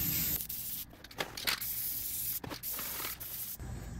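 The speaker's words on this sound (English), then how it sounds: "I'm gonna spray also on the outside" Contact glue sprays from a can onto a vinyl car soft top, giving several close hissing bursts of varying length with short pauses between them.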